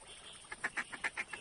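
Ducks quack in a hunting video game, a run of about seven short, rhythmic calls that grow louder midway, heard close and alone without talk.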